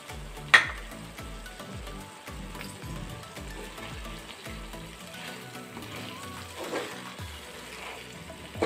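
Chicken fry with mint and coriander being stirred in a pan, a steady soft sizzle with rhythmic scraping strokes of a spatula and an occasional clink against the pot.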